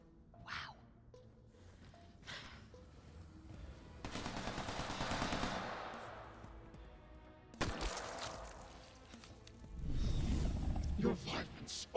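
Bursts of video game gunfire from New Tales from the Borderlands crackle in short volleys between quieter stretches, mixed with growling and a voice, ending in a louder barrage.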